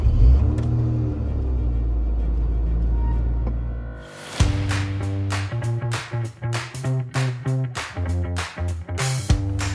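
A Lotus Emira's engine fires up from a push button with a sharp starter catch, then settles into a loud, close idle with a pulsing, throbby rhythm after a stretch of quieter cabin hum.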